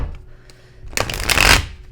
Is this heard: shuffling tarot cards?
yes